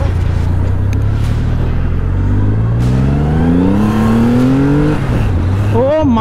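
A Triumph Rocket 3R motorcycle engine pulls hard under acceleration, its deep rumble climbing steadily in pitch over several seconds and then dropping and revving again, loud and close, with talk over it.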